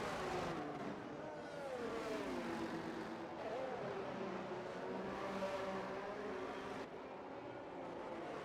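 Race car engine screaming through a flying lap in a racing video game, a continuous high-revving whine shifting pitch through gear changes, with a commentator talking over it.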